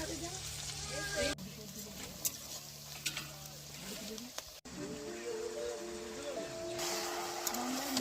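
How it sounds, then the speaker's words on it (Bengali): Potatoes sizzle and fry in a pan over a wood fire in a Sundarbans village home on a winter night, a steady crackling hiss running throughout beneath a speaking voice. "এখন আলু ভাজা হচ্ছে"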